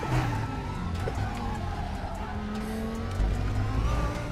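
An Audi race car in the Raceroom racing game drones with a loud, continuous engine note, rising and falling through gear changes, with faint tyre squeal and no break in the sound.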